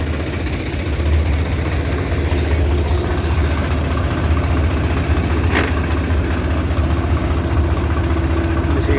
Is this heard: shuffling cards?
no